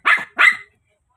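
Two sharp barks from a nearby dog in quick succession, then silence.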